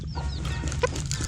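Hens cluck loudly in quick, overlapping calls, with one sharp squawk near the end, close by over low background rumble.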